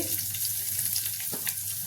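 Dried red chillies, curry leaves, crushed garlic and asafoetida crackle and sizzle in hot oil for a tempering in a home kitchen, a steady close hiss with no talking.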